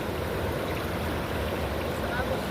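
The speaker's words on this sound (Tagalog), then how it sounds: "Malakas ang agos." A strong water current rushes steadily at night during cast net fishing, a loud, continuous wash of flowing water with no clear break.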